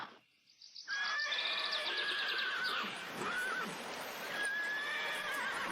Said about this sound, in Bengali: এটা তো জমিদার মশাইয়ের ঘোড়ার গাড়ি।